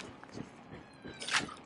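A house cat gives a short, close meow, with faint rustling and soft noises just before.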